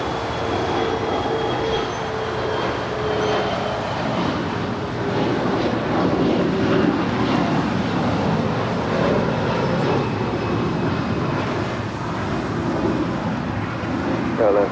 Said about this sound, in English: That is Viva Aerobus Flight 510 coming in from Guadalajara.